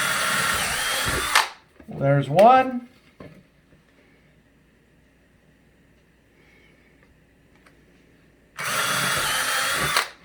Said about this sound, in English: What I'm going to do then is take my drill, I'm going to set it on here,